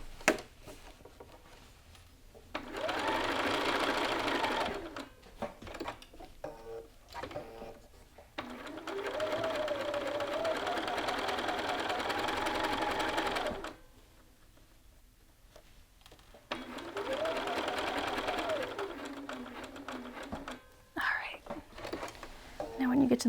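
A sewing machine stitches lapels on a jacket in three long, even bursts, the motor humming close by with brief stops between runs, while a quiet voice murmurs during the gaps.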